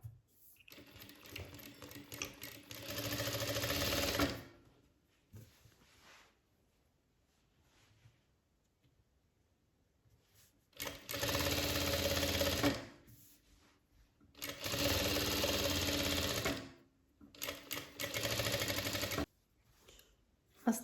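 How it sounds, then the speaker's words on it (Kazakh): Sewing machine stitching the edge of turban fabric, right sides joined, running in three long bursts of rapid, even mechanical chatter separated by quiet pauses, close and clear with no talking. "Оң бет мен оң бетін біріктіріп, осылай шетінен тігеміз."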